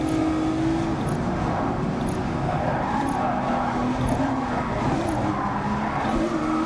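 Race car engines in the VR racing game Grid Legends roar steadily with whining revs and pitch shifts, joined by intermittent tire squeal and skidding, loud and continuous without a break.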